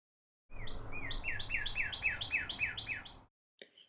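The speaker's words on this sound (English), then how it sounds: "What sound does a bird make?" A bird sings a quick series of about ten clear, rising chirps in an even rhythm. The calls are close and bright against silence, followed by a brief faint chirp.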